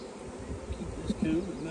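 A honey bee swarm buzzing near a tree, a low, steady, faint drone with a few slightly louder swells, heard close.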